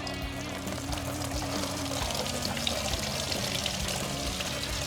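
Fluid pours steadily from a mini truck being swapped to a two-stroke engine into a jug, a continuous liquid rush lasting throughout, fairly close, with no voices.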